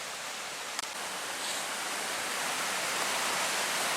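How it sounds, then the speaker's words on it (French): A babbling stream at a calm night bivouac pours out a steady, soft wash of water noise, with one small click early on and no talk. "Avec juste en bercement musical le ruisseau."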